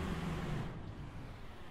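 The diesel engine of a Berlin DL bus on Route 76 in Bremen Nord, OMSI 2 bus simulator, rumbles low and steady through a slightly opened window, a continuous droning hum with road noise and no talk.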